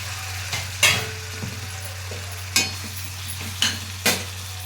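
Tomato pieces sizzling in a hot frying pan for a fish dish, a continuous hiss broken by four or five sharp spoon strikes and stirring scrapes, close up with no voices.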